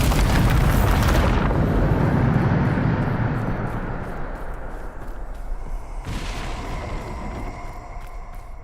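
A Bombarda explosion spell in Hogwarts Legacy bursts with a loud, broad boom at the start, then rumbles and fades into a long decaying tail with a second crackling hit partway through.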